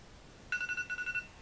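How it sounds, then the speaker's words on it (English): A mobile phone alarm starts abruptly, a quiet high electronic tone pulsing in about eight quick even beeps, alone in the room. "that's my alarm going off"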